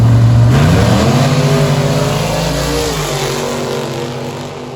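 Drag racing car at a track revving loudly up close with a deep engine roar, the pitch climbing and then settling into a sustained drone that slowly fades as it pulls away.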